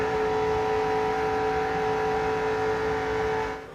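A Pontiac stock car at the 2000 Pepsi 400 heard from an onboard camera, its engine holding a loud, steady high-pitched drone near 200 mph under 7,000 RPM while drafting, fading slightly at the very end.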